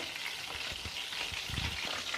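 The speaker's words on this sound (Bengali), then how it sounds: "আর এখানে তো চিকেন ফ্রাই হচ্ছে" Chicken fries in oil with a quiet, even hiss and faint bubbling over a couple of seconds, with no voices present.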